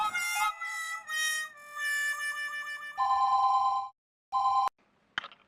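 A telephone rings while a call is placed to an office: a loud electronic ringtone plays in repeated tonal bursts with short pauses, ending in a click as the line connects.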